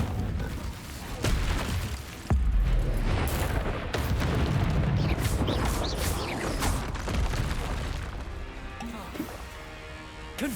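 Explosive spell blasts boom and burst in Hogwarts Legacy combat, loud repeated impacts in a dense stream, with a voice calling out spells over the game's rumbling effects and music.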